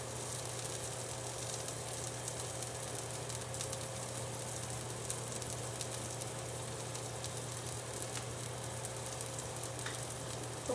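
Onions sizzle in a hot pan as they cook alongside a burger, giving a steady, even frying hiss under a low hum. It continues without a break and no one talks.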